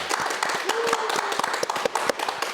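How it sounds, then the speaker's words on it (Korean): Scattered clapping breaks out at a press event for the Ulsan Citizen FC football club, sharp individual claps of uneven rhythm rather than a full ovation, with a voice talking through part of it. "박수 한번 해주시죠"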